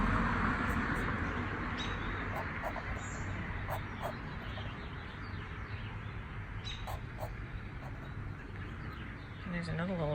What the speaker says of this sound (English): I hear that bird over here. It must be sitting in a bush right next to me.